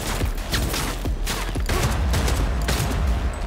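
A pistol fires repeatedly in Cyberpunk 2077, a string of sharp, loud shots at an irregular rhythm over a dense, busy combat background.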